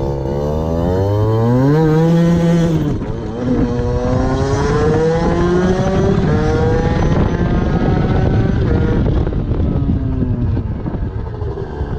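A 50cc moped engine with a Most exhaust runs steadily and loudly close by while riding, its pitch rising and falling with revving, with wind rush over the microphone.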